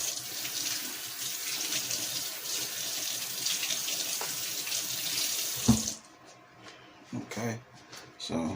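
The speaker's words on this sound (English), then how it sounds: "Wash my hands again." A kitchen faucet runs while hands are washed under it, a steady close hiss of water for about six seconds. It then stops, leaving a few small clatters and movements.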